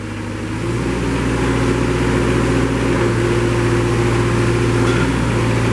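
A Moffett M55 truck-mounted piggyback forklift from 2014 runs with a steady, loud mid-pitched engine drone and hydraulic whine as the mast carriage moves in and out, holding constant throughout.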